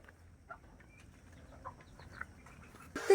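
A brooding hen that has been sitting on sixteen eggs gives a few soft, scattered clucks in a quiet rural setting, followed by a brief louder rustle at the end.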